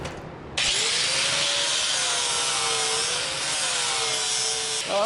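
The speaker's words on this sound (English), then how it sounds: "I think next up, let's do the grinders." Grinder removing dross from cut metal, a loud continuous high-pitched grinding whine that starts sharply and holds steady for several seconds with slight pitch wavering.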